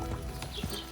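Horse hooves clip-clop in the video game Kingdom Come: Deliverance 2, a few quick thuds within about a second over a steady background bed.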